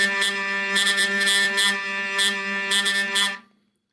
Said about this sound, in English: when I start cranking unevenly, like with little gyrations of my cranking hand,